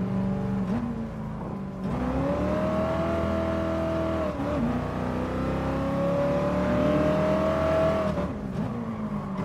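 Racing car engine on the Nürburgring in Gran Turismo, a loud close drone that rises through gear changes, climbs into high revs, drops at each shift and climbs again, continuous for the whole stretch.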